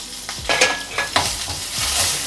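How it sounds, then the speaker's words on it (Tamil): Ginger and three broken green chillies hit a little more hot oil in a kadai for mint thuvaiyal, giving a brief close sizzle with a few scraping stirs. "இதே கடாயில் இன்னும் கொஞ்சோண்டு எண்ணெய் ஊற்றிக்கிறேங்க. இந்த அளவுக்கு இஞ்சி, ஒரு 3 பச்சை மிளகாய் உடச்சி போட்டுக்கிறேன்."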